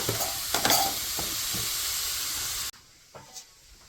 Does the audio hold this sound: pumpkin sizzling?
yes